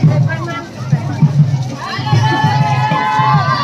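Crowd shouting and cheering at a Dahi Loot village festival, a loud, dense babble of excited voices with children's cries, swelling and continuing throughout.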